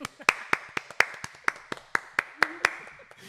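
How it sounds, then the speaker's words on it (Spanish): A small audience applauds: sharp, separate hand claps fall at a loose, uneven pace. The claps are clear and fairly close, with a faint voice briefly under them. "por favor, aplauso para Nati."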